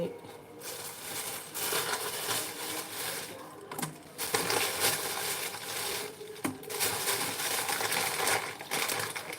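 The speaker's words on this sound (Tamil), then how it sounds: "கடுகு போட்டு உளுத்தம்பருப்பு கடலைப்பருப்பு இதெல்லாம் நம்ம ஆட் பண்ண போகிறோம்" Mustard seeds, urad dal and chana dal dropped into a hot pan for a Tamil bottle gourd stir-fry, giving a steady busy crackle and sizzle with sharp pops, close and fairly loud throughout.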